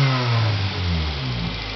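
A 1991 Acura Integra engine running and briefly revving, a steady close rumble with a slight rise and fall in pitch, loud and alone.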